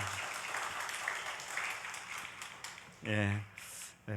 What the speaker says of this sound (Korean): 하나님께 영광의 박수를 올려드리도록 하겠습니다